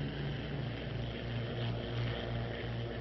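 A Bell P-39 fighter's piston engine drones steadily in flight, a continuous, heavy propeller roar with no talk over it.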